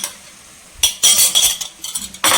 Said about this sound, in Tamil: ஸோ இப்போ இதை வந்து நல்லா மிக்ஸ் பண்ணிக்கலாம்.